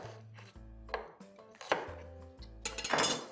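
Knife roughly chopping red onions on a board, a quick uneven series of close, crisp taps and thuds with no talk.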